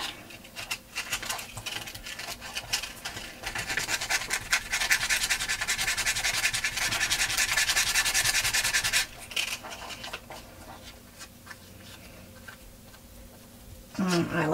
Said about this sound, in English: Just sanding it a little bit and